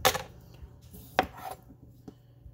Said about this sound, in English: I'm going to use a bigger knife for the potatoes.